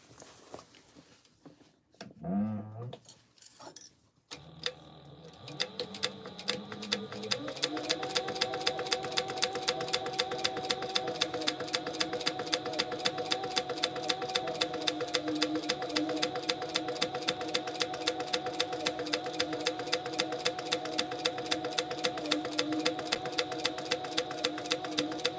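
A sewing machine double top stitching a tote bag runs steadily for about twenty seconds with a fast, even mechanical rhythm, preceded by brief handling noises and clicks, close and moderately quiet.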